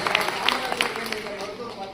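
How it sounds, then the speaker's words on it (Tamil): Audience applause at a Tamil public talk, a dense steady wash of clapping with scattered sharper hand claps and some voices mixed in. "பெரிய கைத்தட்டல் ஐயாவிற்கு"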